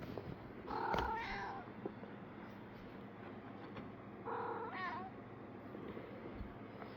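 Month-old kittens give two bursts of high, plaintive meows, one near the start and another midway, close and fairly faint over a quiet indoor background.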